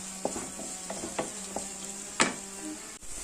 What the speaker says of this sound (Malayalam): എന്നിട്ട് നമുക്ക് സവാള ഇത് നല്ലൊരു ഗോൾഡൻ കളറാവണേ. ഇത് നല്ലപോലെ വഴറ്റിയെടുക്കാം.